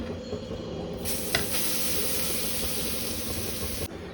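Grated carrot sizzles and fries steadily in hot ghee in a pan, a continuous close hiss with brief stirring scrapes, and no talking.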